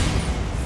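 A Bombarda blasting spell detonating in Hogwarts Legacy, a short, heavy booming burst, loud and close.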